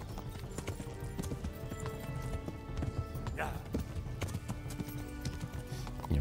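A horse gallops in Kingdom Come: Deliverance during a race, its steady clip-clop hoofbeats quiet and continuous under faint background sound, with a brief whinny-like tone partway through.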